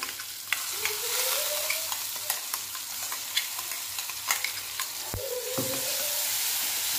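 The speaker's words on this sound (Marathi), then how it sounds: "थोडं परतून घेऊया, थोडंसं परतून घ्यायचं।" Green chili paste sautéing in a pan for a green pea amti, with a steady sizzle throughout and scraping spatula strokes and clinks near the start and again around the five-second mark.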